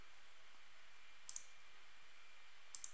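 Two crisp, faint computer mouse clicks spaced about a second and a half apart, each a quick double tick over a quiet hiss, with no voice.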